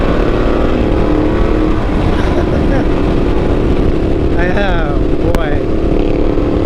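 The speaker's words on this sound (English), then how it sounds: "That bike sounds like, it's so menacing, the sound of it." A Ducati Multistrada motorcycle accelerating away on a ride, its engine pitch rising briefly beneath heavy wind rush, with a short spoken exclamation from a nearby rider.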